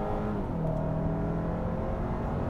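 A 2021 Kia Sorento X-Line AWD with 281 horsepower accelerates onto a freeway, its engine a loud, steady drone that climbs in pitch over a rushing road noise, with no one talking.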